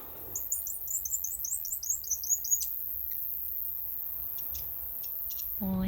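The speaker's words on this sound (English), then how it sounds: "They just sit there and clean themselves and sing." Fantail birds perched near a sailing boat give a rapid series of high, thin chirps and tweets, a quick twittering run that fades into quieter scattered notes over a soft background hiss.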